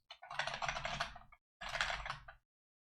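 Two quick bursts of typing on a computer keyboard, with rapid close key clicks separated by a short pause.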